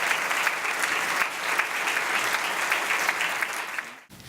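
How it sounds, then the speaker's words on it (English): Applause for Salisbury University's a cappella group Squawkapella at a United Way campaign kick-off breakfast: steady, dense crowd clapping that holds evenly for about four seconds, then breaks off abruptly. "So a round of applause for our friends from Squawkapella."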